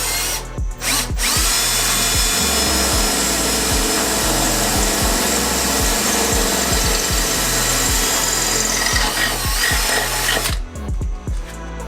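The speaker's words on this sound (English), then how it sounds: "So I'm gonna drill one hole and try to figure out where to drill the other hole" A power drill bores a hole in a car being prepped for a dyno session with a 500+ hp RB25 engine build; the motor whines steadily for about ten seconds, with short bursts and taps at the start and end, loud and close.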